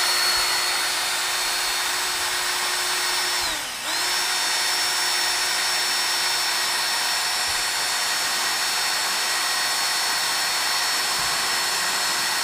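A power drill bores holes through wood, whining steadily and close for the whole stretch, its pitch dipping once briefly under load before recovering.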